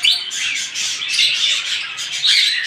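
Pet parrots offered for sale, cockatiels, lovebirds, budgerigars and sun conures, squawk and chirp in a steady, dense chorus close by with no pause in the chatter.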